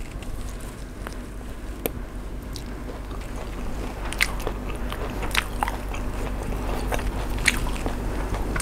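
Biting and chewing on Thai grilled beef salad (nam tok), a steady run of crunchy, moist mouth sounds up close with sharp bite clicks, over a low continuous background hum and no talking.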